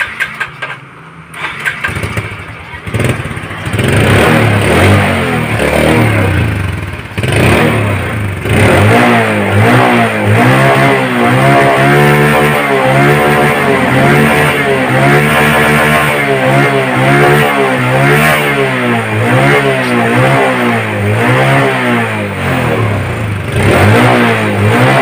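Motorcycle with a smoking engine runs loudly close by, sputtering at first and then revving repeatedly in rising and falling surges over a rough, steady idle.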